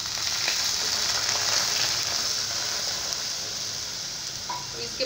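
Dried dates halwa cooking in a pan with full-cream milk gives a continuous, close bubbling sizzle with a bright hiss that stays steady and fairly loud throughout.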